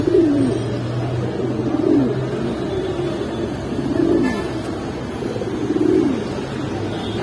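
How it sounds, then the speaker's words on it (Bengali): Pigeons at Kaptanbazar pigeon market in Dhaka give repeated low coos, four or five rolling calls spaced a second or two apart, over a steady market hum. "ভাই এখানে একটা কবুতর আছে"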